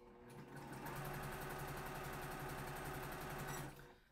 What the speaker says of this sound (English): I'm going to sew a couple more pieces here.